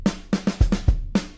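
Drum groove played on a drum kit with the snare ghost notes struck at full volume, giving a loud, heavy pattern of separate snare and kick hits over about a second and a half.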